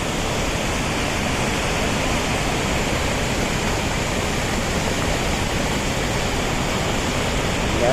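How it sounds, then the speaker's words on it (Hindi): Dhuandhar waterfall on the Narmada River at Bhedaghat, a steady, dense roar of falling water that stays loud and unbroken throughout, with no voices. "लहरों का अद्भुत शोर।"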